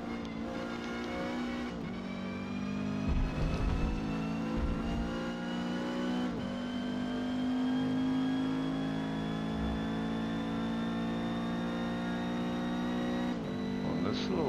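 Renault 8 Gordini racing in D class at Nürburgring in Forza Motorsport, its engine droning steadily and loudly at high revs with shifting pitch through the whole stretch, brief dips between gear changes and occasional tire noise.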